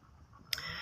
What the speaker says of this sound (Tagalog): pupunta na yung mga gansa. Matatapang mga yan.